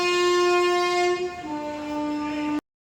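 A train horn blares at a railway station in one long, loud, sustained tone that dips slightly in pitch midway before cutting off abruptly.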